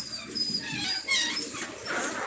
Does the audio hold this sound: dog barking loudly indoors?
yes